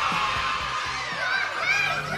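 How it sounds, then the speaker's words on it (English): Party crowd of children and adults cheering and shouting for the Sex Pistols at their Christmas 1977 gig, a steady dense roar of voices with whoops over it, loud and continuous throughout. "let's have a big cheer for the Sex Pistols"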